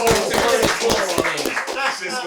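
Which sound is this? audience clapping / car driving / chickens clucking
audience clapping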